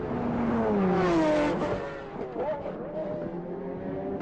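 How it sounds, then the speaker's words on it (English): A BMW race car at the 1999 Le Mans 24 Hours on the Mulsanne straight, its engine wailing loudly with a rising then falling pitch as it passes, followed by other engines droning on, with commentary running underneath. "Beautiful sounding car, that BMW"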